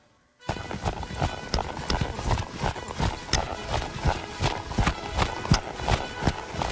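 A horse lopes close by in a steady three-beat rhythm of loud, rapid hoof clip-clops that start abruptly and continue throughout.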